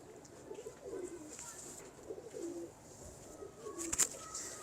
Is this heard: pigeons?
yes